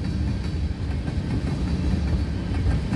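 A freight train with an SD70 DPU locomotive rolls steadily past, giving a continuous loud rumble and rail noise with faint clickety-clack, close by and with no voices.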